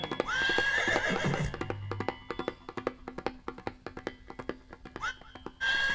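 A horse gives loud, close whinnies at the start and again near the end, with a run of hollow clip-clop hoofbeats and thuds between them.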